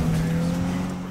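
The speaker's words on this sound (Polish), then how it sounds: "to co przed chwilą robiłem, to był taki bączek zwykły" Brief tire squeal and engine drone as a car spins a donut in Need for Speed (2015), steady and loud for about a second.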